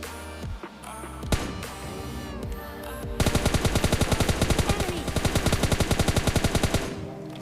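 Video game gunfire: scattered gunshots give way to a sustained burst of rapid automatic fire, loud and rhythmic, with a few single shots and a lingering ring at the end.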